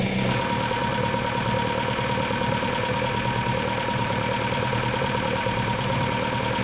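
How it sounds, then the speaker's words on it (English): Steady engine idle fed by twin Weber DCOE carburetors, a continuous even drone with a low rumbling pulse held at constant loudness throughout, no talking over it. "Right there, I can just hear the idle dropping off a little bit."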